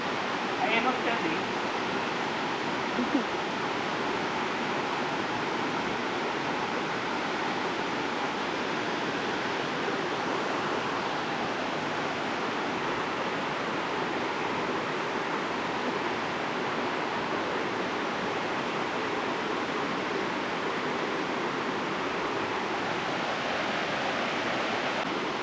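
Locong Falls on Siquijor in the Philippines pours with a steady, broadband rush of water. The roar holds unbroken and fairly soft throughout, with a brief faint voice near the start.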